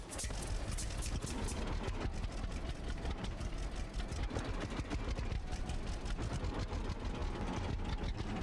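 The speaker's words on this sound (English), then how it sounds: "Well, it doesn't seem to run much better than the other one, but hey, it's a tractor." A tractor engine in the farming game Farmer's Dynasty runs steadily, a constant rough rumble with a faint rattling pulse and no talk over it.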